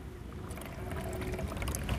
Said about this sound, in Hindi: अब हम इसमें पानी डाल रहे हैं,